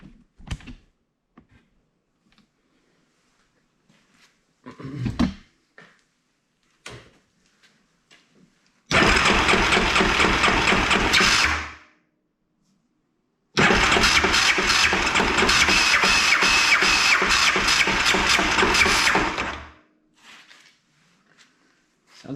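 Kodiak ATV engine cranking on its starter and failing to catch, two long loud bursts of about three and six seconds with quiet gaps and small clunks between them.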